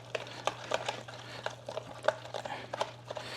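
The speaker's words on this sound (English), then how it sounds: "we're just gonna whisk it" Freeze-dried nacho cheese mixture being whisked in a bowl, a quick irregular series of soft clicking taps and scrapes over a steady low hum, fairly close and with no talk.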